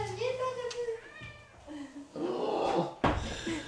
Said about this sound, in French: parce qu'on va l'entendre miauler